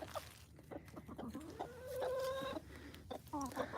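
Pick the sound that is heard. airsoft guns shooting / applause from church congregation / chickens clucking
chickens clucking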